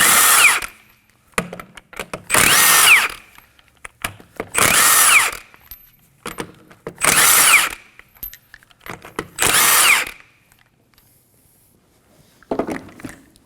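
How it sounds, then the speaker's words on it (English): A power tool with a 21mm socket spins off the lug nuts on a Kia Optima rear wheel in five loud, separate bursts of about a second each, with quiet pauses and small clinks between them. "go ahead and remove the lug nuts."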